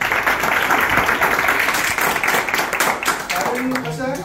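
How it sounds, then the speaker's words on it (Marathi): Audience applause at a speech event, a dense, steady wash of clapping from a crowd that tapers off near the end as a voice begins. "सरांसाठी एकदा टाळ्या उद्या."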